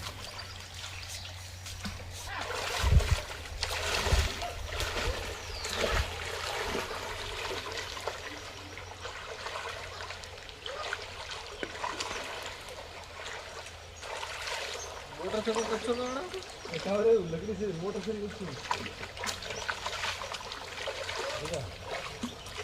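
River water flows among sharp rocks on a fishing outing with a steady trickling, splashing rush, while people talk over it for much of the time.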